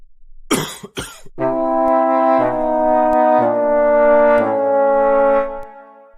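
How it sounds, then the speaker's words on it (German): Two sharp, harsh coughs from an ill father in a German-language family drama, heard close and loud at the start, then a long sustained musical tone takes over. "Du hast übermäßig gehustet."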